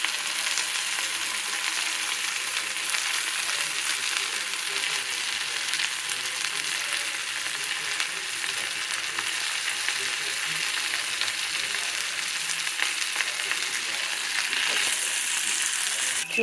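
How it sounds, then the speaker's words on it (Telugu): Drumstick leaves (munagaku) frying in a pan, a steady dense sizzle and crackle that holds evenly throughout with no talk over it. "ఒక 10 నిమిషాలు ఇలాగే నేను వేయించుకుంటున్నాను"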